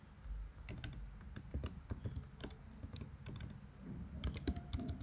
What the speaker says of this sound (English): let me say I type in something else